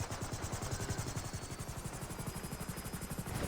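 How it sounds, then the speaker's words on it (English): A helicopter in the GTA 5 video game flying near a UFO, a steady pulsing rotor chop over a continuous engine whine, close and loud throughout with no talking. "Oh, it's so weird with those helis sort of floating above it."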